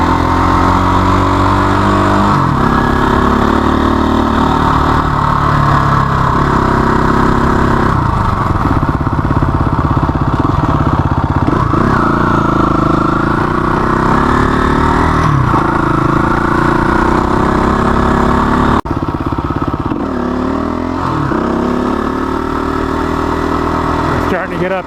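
Motorcycles loaded with camping gear ride a truck trail near Santa Rosa, their engines droning steadily throughout with shifting revs, loud and close, while a rider talks over the engine noise.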